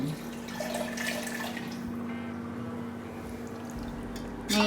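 A little water pours into a bubbling cooking mixture in a home kitchen, a steady liquid splash lasting several seconds at close range with no talking over it.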